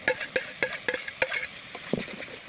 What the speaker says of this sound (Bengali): মশলাটা এখন আবার ভালো মতন কষাই নিব।